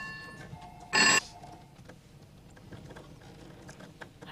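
A telephone rings once in a short, bright burst during a Marathi stage comedy, standing out over faint room murmur and then fading back to quiet.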